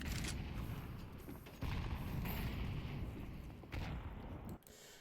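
HE grenades and Molotovs going off in Counter-Strike on the Vertigo map, heard as a dense, continuous roar of blasts and fiery rumble, with several sudden louder bursts over a noisy low-end wash and no clear speech.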